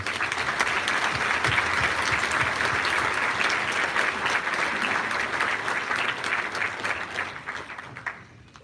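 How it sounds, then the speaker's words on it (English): A high school awards ceremony audience claps steadily for graduating seniors, a dense, even wash of applause across the hall that holds for several seconds, then tapers off at the end. "Let's give our seniors a round of applause."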